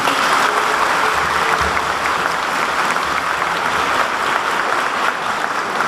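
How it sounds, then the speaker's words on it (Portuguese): The congregation at a novena mass for Our Lady of the Rosary in Sabinópolis breaks into sustained applause, dense even clapping throughout a resonant church space. "a quem pedimos uma salva de palmas"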